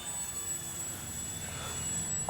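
An FMS Ranger RC model airplane flies a pass during a learn-to-fly session, giving a steady, continuous motor drone at moderate distance with no talk.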